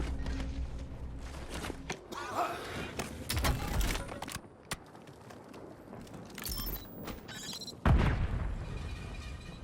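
Video game gunfire in a Call of Duty Warzone Resurgence match: scattered shots and sharp bursts, one loud hit near the end, among footsteps and quieter background effects, with a voice speaking briefly.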